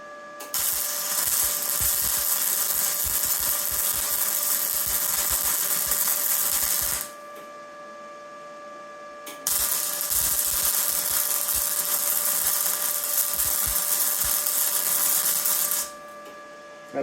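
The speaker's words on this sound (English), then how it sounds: "Welding! You ready? Welding." Welding tacks are laid on a thick pipe as two long bursts of loud, crackling buzz, separated by a short quieter hum.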